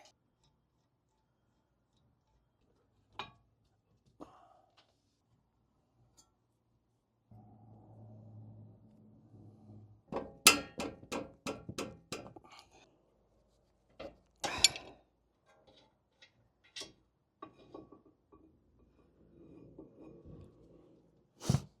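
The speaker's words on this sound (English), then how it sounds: "we're gonna go ahead and start working on removing the rotor up here" Metallic clicks and ratcheting of a 12 mm wrench working loose a brake rotor during a brake and rotor upgrade, coming as sparse ticks, a rapid burst of clicks in the middle and scattered clinks, with a soft rustle between them and no talking.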